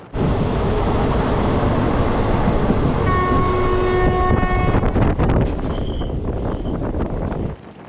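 A passenger train on the Konkan Railway line in India runs at speed with a loud, steady rumble and rail roar, and its horn sounds for a stretch midway.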